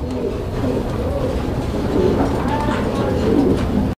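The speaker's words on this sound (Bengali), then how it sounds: "এখানে আরো এক জোড়া আফসান গ্রিজেল কবুতর" Afshan grizzle pigeons in a pen coo softly amid a busy, continuous background of other birds and murmuring, heard at moderate distance.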